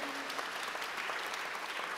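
Audience applause at the Trophée de l'Innovation en entreprise 2022 awards ceremony for diversity in business, a steady wash of many hands clapping at moderate volume throughout, with no talk over it.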